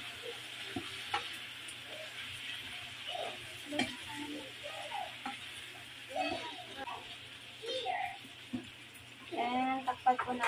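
Cubed sayote and pork sauté in a pan with a soft steady sizzle, punctuated by intermittent scraping and clinking stirs, louder bursts of frying near the end, and a voice speaking faintly at times.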